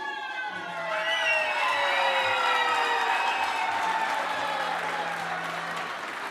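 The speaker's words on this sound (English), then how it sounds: "Round of applause" Steady applause from a crowd at a university vice-chancellor installation ceremony, continuous and fairly loud, with a rising siren-like whistle or tone sweeping over it near the start.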